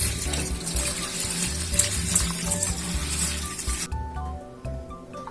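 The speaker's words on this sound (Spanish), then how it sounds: "Le tenemos que enjuagar hasta que ya no salga, que ya salga transparente el agua del arroz" Tap water runs and splashes steadily over rice being rinsed in a kitchen sink, close and continuous, with soft swishing and clinking, then the flow thins near the end.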